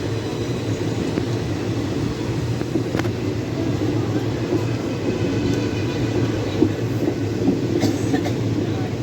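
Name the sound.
Sabari Express train running on rails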